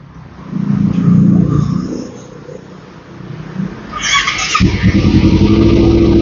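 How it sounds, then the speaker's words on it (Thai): A two-cylinder Kawasaki Ninja 250 motorcycle cranks and fires up, settling into a steady, close idle rumble after a quieter stretch of background noise. "เดี๋ยวสตาร์ทเครื่องให้ฟังนะครับ"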